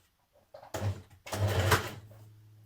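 A sewing machine back stitches a cardigan seam at the underarm, running in two short close bursts with a brief pause between them, the second longer, then quietly settling.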